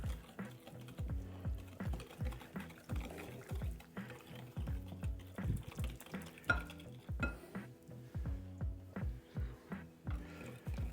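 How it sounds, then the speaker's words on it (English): Cornbread cookie dough being stirred by hand in a bowl, a steady rhythm of soft thick scraping strokes with light clinks, close and continuous with no talking. "I'm gonna go ahead and mix this by hand."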